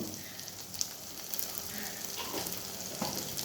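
Spice masala for chicken biryani, including Kashmiri red chilli, garam masala, cumin, coriander powder and turmeric, sizzles and fries in a pan, a steady close crackle broken by stirring scrapes.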